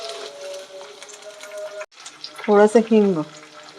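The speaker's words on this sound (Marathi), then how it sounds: "राई चांगली तडतडून घ्यायची, चांगली फोडणी द्यायची राईला" Mustard seeds crackle and pop in hot oil as a tempering for corn dhokla, heard as sharp bursts in the second half after a brief hum, with someone speaking at the start.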